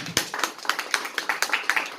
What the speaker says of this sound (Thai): ไม่มีเนาะปรบมือให้กับเศรษฐีครับ